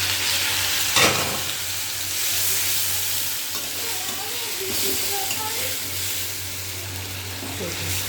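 Small fish with garlic and spices stir-fry in a pan, a steady moderate sizzle and hiss with scraping stirs and a sharp clink near the start.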